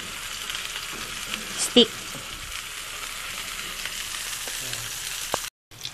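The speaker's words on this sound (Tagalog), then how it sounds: "ipapry na po natin itong ating king size na hotdog" A king-size hot dog fries in hot oil with a steady, close hiss and sizzle throughout, briefly broken by a single spoken word and a short clatter near the end.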